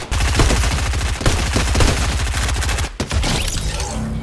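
Rapid bursts of gunfire in the video game Fortnite, played on Nintendo Switch, loud and dense with repeated shots rattling almost continuously, a brief break near the end before firing resumes.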